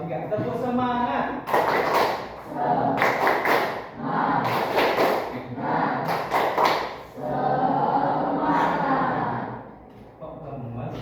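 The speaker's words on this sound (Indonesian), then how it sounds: "1, 2, 3, tepuk semangat." A group performing the tepuk semangat clapping routine at an ice-breaking session: bursts of rhythmic, loud group claps and thumps come in patterned clusters, alternating with chanted voices between rounds.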